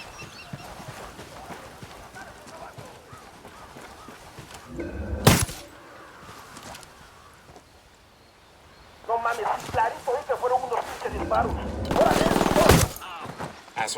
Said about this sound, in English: Stay quiet. I'm opening fire.